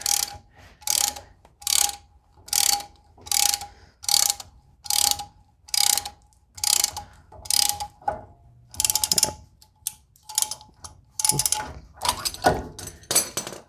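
A tool compressing a brake caliper piston on a Chevy Tracker makes a loud, regular ratcheting clatter in repeated bursts about every three quarters of a second, with quicker, more irregular clicks toward the end.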